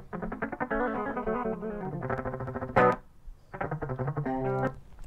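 Two unprocessed direct-input electric guitar tracks play clean, thin-sounding chords and riffs in short bursts with a brief pause, close and dry with no amp tone or effects.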